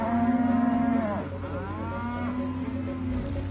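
Beef steers at a huge JBS feedlot holding up to 90,000 head give long, low moos, one sustained call followed by another after a short pause, close and loud over a steady bed of herd noise.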